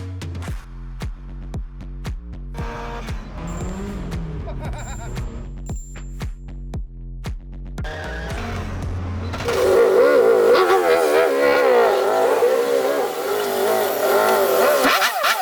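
Nissan SR20DE four-cylinder from a non-turbo S14, fitted in a Datsun 510 with a Speeduino standalone ECU, idling with a rhythmic pulse and then revving up loud and rough.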